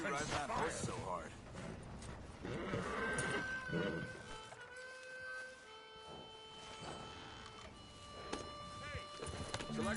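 Horse hooves clip-clopping at a hard ride in the Red Dead Redemption 2 video game, a steady rhythmic clatter running under game characters' talk and music, moderately close.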